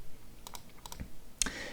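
Keys tapped on a computer keyboard to steer a small robot, a few quick light clicks in two short bursts, then one sharper louder keystroke, close and alone.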